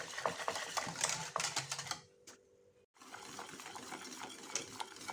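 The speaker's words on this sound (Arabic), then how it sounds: "ونبقى نحرك حتى يعقد لينا الخليط" A spoon scrapes and clicks as pastry cream mixture is stirred in a pot on the stove, a steady run of close, busy strokes that pauses briefly midway before resuming.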